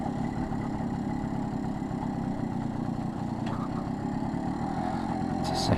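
A BSA Bantam D3 motorcycle's small engine runs steadily while being ridden through the gears on a quiet road, a continuous close drone with steady loudness and no voices.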